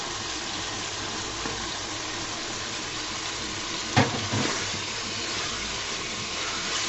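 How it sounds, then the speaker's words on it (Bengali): Steady sizzling of spice masala frying in hot oil, with a brief clatter of stirring midway; no talking. "তেলটা ছাড়ার পরে আমি মশলাটাকে ভালো নাড়াচাড়া করে নিব"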